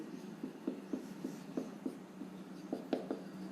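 Chalk or marker tapping and scraping on a classroom board during a lesson, a series of short, regular strokes with a brief pause, moderately close and fairly quiet, with no talking.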